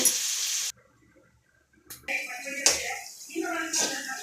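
Mango pieces sizzling and frying with chili powder in a pan, a loud sizzle that cuts off abruptly, then returns with stirring scrapes and wet slapping sounds.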